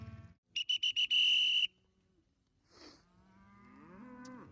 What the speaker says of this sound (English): You can see I'm out moving the cattle this morning.